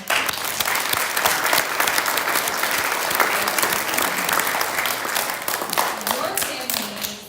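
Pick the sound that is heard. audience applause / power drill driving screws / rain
audience applause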